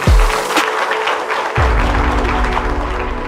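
An audience claps during a live church-style broadcast, loud bursts of clapping that rise at the start and again midway, mixed with a low sustained hum and tone in the room and no speech.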